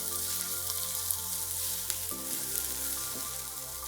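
Finely chopped garlic and celery fry in hot oil in a pan, a loud continuous sizzle with a steady musical hum running underneath.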